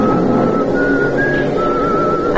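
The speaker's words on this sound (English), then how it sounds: "Over the noise, I hear some contented soul whistling." Man whistling a light tune aboard a crowded train car in an old-time radio drama, the melody sustained and fairly clear over a steady rumble of train and crowd noise.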